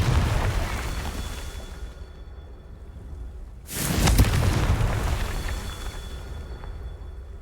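A Confringo fire spell explodes in Hogwarts Legacy with a single loud, sudden burst midway, leaving a rumbling tail that fades over a few seconds above a constant background wash.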